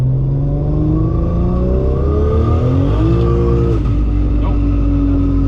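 Barra-engined GT350 on an airstrip revving hard while spinning its wheels, the engine note climbing and dropping in pitch through several surges, loud and close, with no one speaking.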